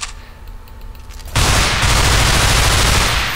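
Sudden loud burst of sustained gunfire in the Underhell video game, dense rapid shots that continue to the end after a quieter start.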